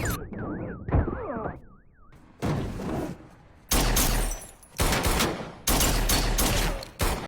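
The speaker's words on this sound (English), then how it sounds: "That was like never-ending gunshots." Movie gunfire from John Wick Chapter 2 erupts in long, sharp, loud bursts of rapid shots, preceded by a warbling electronic alarm-like tone and broken by brief quieter gaps between each volley.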